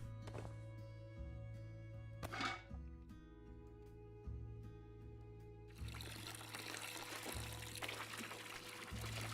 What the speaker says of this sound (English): Pouring it all in there to ferment.